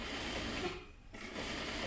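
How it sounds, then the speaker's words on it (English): A sewing machine stitches along a fabric face mask, a steady fast mechanical whir with a brief slowdown in the middle before the run resumes at full speed. "we're just going to stitch on top of that stitch line"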